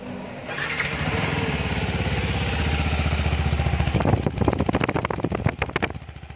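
A 2020 Yamaha WR155 trail motorcycle with a VVA engine and forged piston, idling steadily close by, then revved in a quick series of sharp throttle blips.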